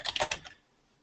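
Fingers tap out an email address on a computer keyboard, a quick burst of about five light, close key clicks within half a second, then quiet.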